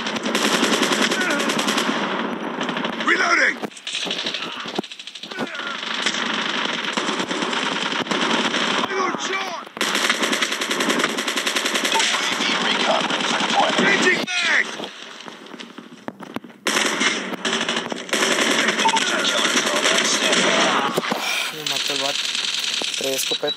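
Rapid bursts of automatic gunfire from the mobile shooter game Call of Duty Mobile crackle in repeated volleys with short gaps, loud and continuous over the game's background noise.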